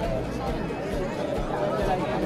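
A large crowd at a temple festival fills the air with dense, continuous chatter and babble. It stays steady and close all around, with no single voice standing out.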